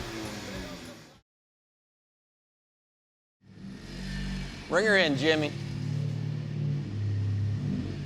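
A small four-cylinder Honda Civic hatchback revving hard against its rev limiter, loud, close and buzzy, with a rising rasp midway that stays high and bouncing; it cuts out to silence briefly before returning, and a voice speaks at the start.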